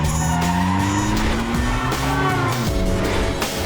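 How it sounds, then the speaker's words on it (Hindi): A car swings through a sharp U-turn, its tires squealing in long sliding, pitch-bending wails over the steady engine noise, loud and close. "गाड़ी घुमाओ."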